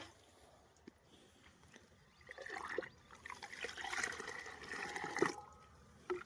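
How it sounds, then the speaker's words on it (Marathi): Water pours from a measuring container into a farm spray pump tank while mixing pesticide spray, a splashing gurgle that builds midway and continues, with rustling handling noise around it. "ज्या मापाने तुम्ही पाणी घेतलेलं त्याच मापाने आपल्या पंपात पाणी टाकायचं आहे"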